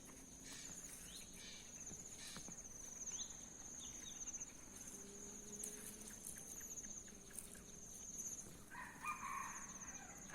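A junglefowl rooster crows several times from a distance over a constant high insect drone and evening ambience, with no talking.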